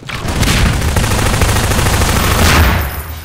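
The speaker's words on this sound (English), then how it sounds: "It's only shotgun shooting" Repeated shotgun blasts in Half-Life 2 Deathmatch, a dense volley of loud booming shots overlapping one another across a few seconds, with a sharper burst near the end.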